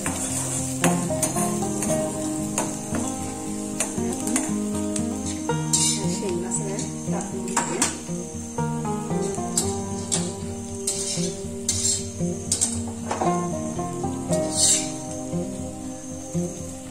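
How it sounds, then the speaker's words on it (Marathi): Ginger-garlic paste sautéing in a pan while being stirred, a low sizzle under repeated metal spoon scrapes and clinks, with someone talking over it. "इथं थोडस आलं आणि लसणाची पेस्ट आहे, ती यामध्ये घालूया"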